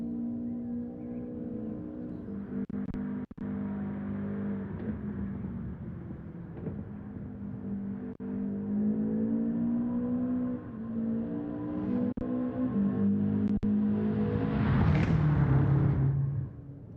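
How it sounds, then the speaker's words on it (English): A Subaru race car engine from the video game Gran Turismo 7 drones in a steady tone that rises and falls with gear changes over the whole stretch, with a sharp rev climb near the end. "Doesn't the Subaru sound so nice?"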